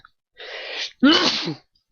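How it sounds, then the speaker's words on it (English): A single close, loud human sneeze: a drawn-in breath followed by a sharp explosive burst that fades quickly, with silence around it. "I don't know why I'm sneezing so much suddenly."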